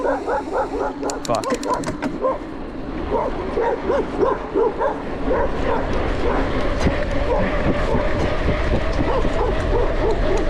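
Dogs chasing a cyclist bark repeatedly and excitedly, several loud yips and woofs overlapping close by, with a person's voice breaking in now and then.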